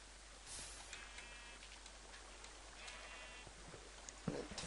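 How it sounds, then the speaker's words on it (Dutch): Sheep in the video game Minecraft bleat in a few short wavering calls over a quiet, steady background, fairly faint and without speech. "Met fakkels en schapen."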